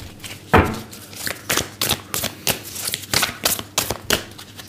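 A tarot deck is shuffled by hand, with rapid, crisp riffling bursts in an uneven rhythm, close and fairly loud, with no talking over it.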